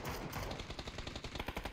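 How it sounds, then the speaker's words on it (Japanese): Suppressing gunfire rattles in a PUBG battle royale esports match, a quiet, distant run of rapid repeated shots in uneven bursts. "牽制射撃が入ってる"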